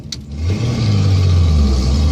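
A carbureted inline 250 engine in a budget hot rod revs loudly and close, its deep steady roar swelling after a brief start and holding strong, with no voices over it.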